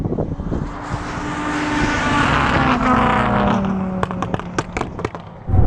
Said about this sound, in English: That rallycross car absolutely nails it off the line.